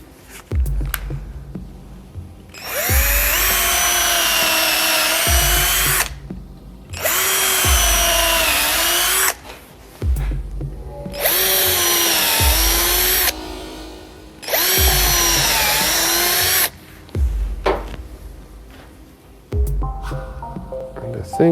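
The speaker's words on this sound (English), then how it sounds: "Let's pre-drill." A power drill whines loudly in several bursts of a few seconds each, pre-drilling into wood, revving up and down, with short pauses between them.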